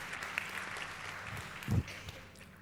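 Steady crowd applause fills the room at moderate volume, with a brief louder thump partway through and no voices.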